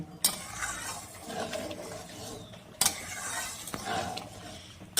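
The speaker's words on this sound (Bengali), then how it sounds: "ভালো করে মিশিয়ে নেব" A spoon stirs mung dal cooked with a fish head and chopped coriander in a pan. Two sharp scraping clinks come about two and a half seconds apart, with soft stirring and a faint sizzle between them and no voices.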